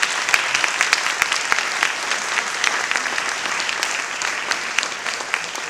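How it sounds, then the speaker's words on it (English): A crowd at an evening candidate forum for District 3 and mayoral candidates applauds, a continuous, fairly loud round of clapping from many people that stays even throughout without voices. "Round of applause, please."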